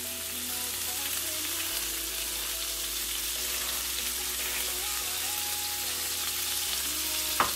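Hamburger steaks frying in a pan in their own fat with no oil added, a continuous close sizzle and crackle holding steady throughout, with a sharp tap near the end and no speech.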